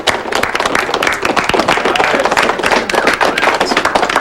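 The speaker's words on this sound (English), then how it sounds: "Let's give a big round of applause to Spaulding" Audience applause at an evening event, a steady, dense clatter of many hands clapping throughout, loud and fairly close, with no voices over it.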